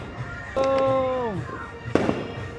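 A New Year's Eve firework bursts with a crackle, followed by a descending whistle-like tone, then another sharp pop and crackle; background chatter carries faintly throughout.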